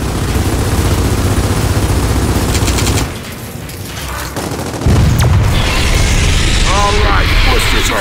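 Heavy gunfire and booming blasts in a Gears of War 4 battle while trying to shoot an exposed core, loud bursts dropping briefly into a quieter lull before erupting again with sharp impacts.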